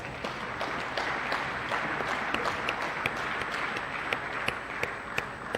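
An audience at a 2023 BMS degree convocation keeps up continuous applause as graduates' names are read, a broad, busy wash of many clapping hands at steady loudness.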